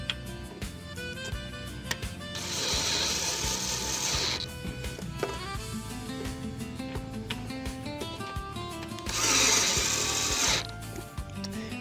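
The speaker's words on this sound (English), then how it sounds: "Gonna get my screws ready to screw in there." A power drill drives screws into a foldable nylon mast step on a PDQ 36-foot sailboat, in two loud whirring bursts of about two seconds each, amid clinking handling and background music.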